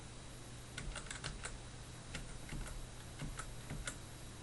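Keys clatter on a computer keyboard in faint, quick irregular taps, with a few brief pauses, over a low steady background hum.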